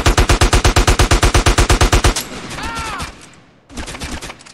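Rapid automatic gunfire in GTA San Andreas, about fifteen evenly spaced loud shots in a steady burst, then scattered game noise and softer sounds afterward.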